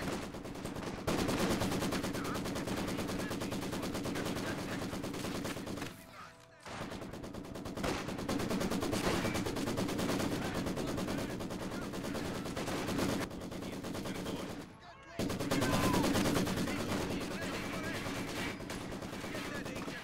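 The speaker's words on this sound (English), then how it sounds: "Heavy machine gun team prepared for combat." A Maxim heavy machine gun in a video game fires long sustained bursts of rapid, dense automatic fire, nearly continuous for the whole stretch with two short pauses between bursts.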